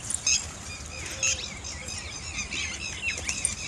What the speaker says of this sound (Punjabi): ਪੰਛੀ ਬੋਲਣ ਡੇ ਆ ਕਿੰਨਾ ਵਧੀਆ